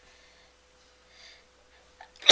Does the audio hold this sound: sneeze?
yes